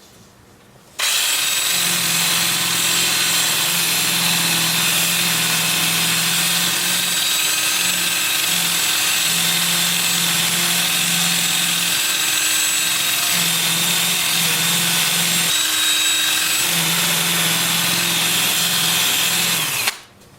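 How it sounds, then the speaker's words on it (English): A 2-inch sanding disc, 80 to 400 grit, working a wood turning on a lathe spinning in reverse at 400 RPM; a steady close whirring drone with a low hum, briefly easing off near the middle and then resuming until a sudden stop. "I'll switch to my 2-inch disc starting at 80 grit and working up through 400. I'll have the lathe spinning in reverse at 400 RPM for that"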